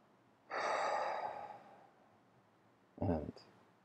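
A slow, deep meditative breath taken before an opening prayer: a long, soft exhale that fades away, then a shorter, sharper second breath, close and alone with no talk.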